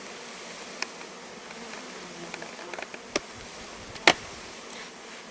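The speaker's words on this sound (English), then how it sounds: "the bees will hang on to each other instead of fly" A soft, continuous buzz of many honey bees pouring out of a package hums close by, with scattered sharp taps and clicks breaking through now and then.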